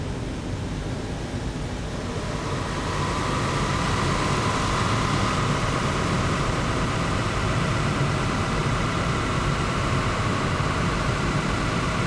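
A car engine runs at a steady 40 mph cruise during an electronic throttle control failsafe demonstration, giving a constant loud broadband drone with a low rumble and a mid hum that firms up after a couple of seconds, with no voices.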